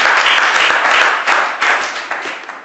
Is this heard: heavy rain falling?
no